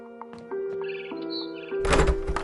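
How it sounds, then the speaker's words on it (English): A few short bird chirps sound over a sustained musical tone, followed by a sudden louder burst of noise near the end, in the video game What Remains of Edith Finch on PS4 Pro. "Then I heard chirping outside my window."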